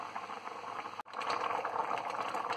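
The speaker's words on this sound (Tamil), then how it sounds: "குழம்பு நல்லா கொதிச்சுட்டு பச்சை வாசனை போயிடுச்சு" A pot of Nagercoil-style coconut fish kulambu bubbles steadily at a full boil, a dense, continuous simmering hiss with a brief break partway through, close and moderately quiet.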